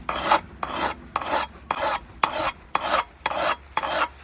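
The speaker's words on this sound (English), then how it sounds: "So I'm going to go ahead and just hit this with a flat file." A flat bastard file rasps across the blade of pruning shears in eight even, rhythmic strokes, close and dry, with brief pauses between each pass.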